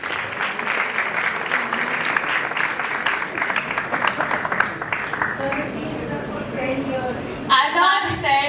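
An audience at a Global Entrepreneurship Summit, an E-Summit startup competition, applauds in a sustained burst of many hands that gradually thins out before a voice begins speaking near the end.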